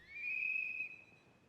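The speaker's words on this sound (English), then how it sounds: "One more whistle." A whistle blown in the zombie survival game Project Zomboid: one steady, piercing tone held for about a second, then fading out, with no talk over it.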